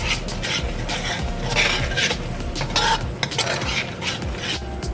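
Curry paste stirred in a pot for curry crab, with repeated scraping strokes of a spoon against metal over a faint sizzle, close and steady.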